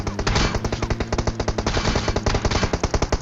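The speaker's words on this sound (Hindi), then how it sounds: "इतनी देर में जो है पीछे से फायरिंग होती है" Rapid automatic gunfire from PUBG Mobile, a fast steady stream of loud shots at close range with no talking over it.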